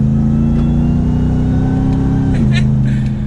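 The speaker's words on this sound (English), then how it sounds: "Aside from the supercharger whining and a little bit of the exhaust, there's no road noise or wind noise." A 2021 RAM 1500 TRX pickup heard from inside while driving, with a steady low exhaust drone and faint supercharger whine, the pitch dropping slightly near the end as it shifts.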